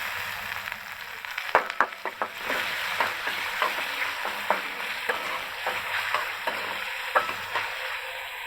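Onion frying in oil with ginger-garlic paste for a beef liver dish: a continuous sizzle punctuated by repeated sharp spatula scrapes and taps against the pan at an uneven rhythm, close and moderately loud, with no voices.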